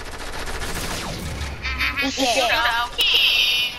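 Rapid bursts of gunfire from a shooting video game, a fusillade of shots crackling loudly and continuously with a few sharper stacked volleys near the end, while voices talk over it.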